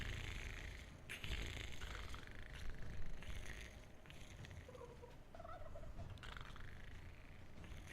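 Turkeys gobble in the strategy game Dungeons 3, with several bursts of gobbling rising over a busy, dense bed of in-game ambience.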